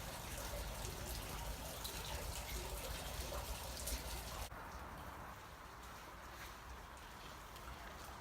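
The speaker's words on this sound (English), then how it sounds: "Year-round, this cave has water flowing through it." Water flows through a cave year-round as a steady, broad rushing wash that stays constant and moderately loud throughout, turning slightly softer and duller partway through.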